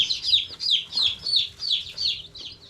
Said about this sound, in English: These are barred rock laying hens.